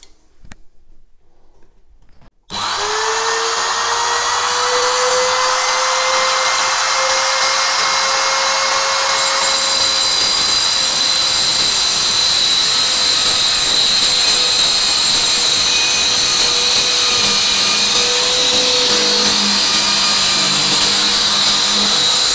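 A power saw cuts across wooden floorboards near the joist. It spins up abruptly after a short quiet lead-in and then whines loudly and continuously at close range, its pitch easing slightly as it bites into the wood.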